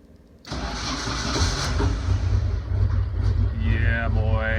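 A 1972 Alfa Romeo GTV on dollies starting for the first time after a new wiring harness, with starter fluid sprayed in the cylinders: a sudden catch into a loud, steady, rumbling idle that holds to the end.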